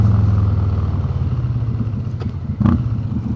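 A 2020 Harley-Davidson Road Glide Special runs under throttle, its deep exhaust rumble loud and close, rising briefly with a burst of revving and mechanical clatter near the end.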